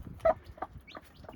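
Newly hatched chicks peeping, a brief close cluster of soft, high chirps and small clucking calls overlapping in quick succession.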